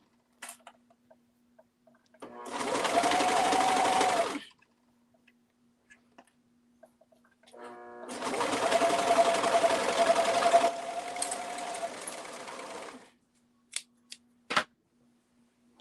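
A sewing machine stitches around the front cuff of a sweater in two long runs, steady whirring bursts separated by a quiet gap, followed by a few faint clicks.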